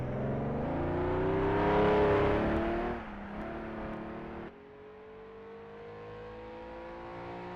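A 3-litre race car at the Isle of Man time trial accelerates hard, its engine climbing loudly in pitch and then easing off as it passes, a steady mid-distance drone fading toward the end.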